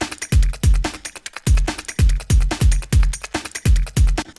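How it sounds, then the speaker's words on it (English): Hip-hop beat drums with the sample muted: punchy kicks and snappy snares with hi-hats in a steady looping groove, loud and upfront with no other instruments or voices. "So this is what the drums sound like without the sample."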